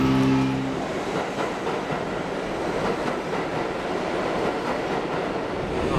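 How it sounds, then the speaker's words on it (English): Steady rumble and rattle of a New York City subway train in motion, continuous and fairly loud throughout, with no voices. "This is our last subway ride"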